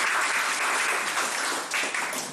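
Continuous applause from a crowd as the sole candidate is elected mayor of the Muyuka commune by acclamation, steady and dense throughout with slight swells, no voices standing out.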